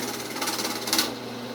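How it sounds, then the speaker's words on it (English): A power drill whirs steadily at close range while boring holes through wood, its buzzing pitch rising briefly as it bites in, then settling back. "You want to try to drill these holes as straight through as you can"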